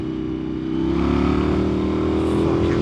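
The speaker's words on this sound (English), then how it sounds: "you can certainly hear the rumble of the V-twin, right? Especially with this aftermarket exhaust that I have on it" Deep, steady V-twin rumble from an FTR 1200 Rally motorcycle fitted with an aftermarket exhaust, loud and close, the engine note swelling slightly as it pulls along without any talk.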